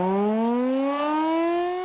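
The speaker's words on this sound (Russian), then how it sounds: "Сирены установлены на крышах жилых зданий и крупных организаций города." Civil defense warning siren under test on a rooftop in Naberezhnye Chelny, a loud steady wail slowly rising in pitch with strong harmonics, sounding alone and continuous throughout.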